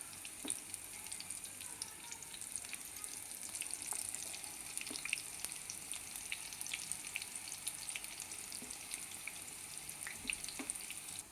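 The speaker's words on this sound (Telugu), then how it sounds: "ఇలా మీడియం ఫ్లేమ్లో పెట్టి వేయించుకోవాలండి" Dahi bade, gram-flour lentil fritters, frying in oil over a medium flame, giving a soft, continuous crackling sizzle with scattered small pops, fairly faint and close, with no voices.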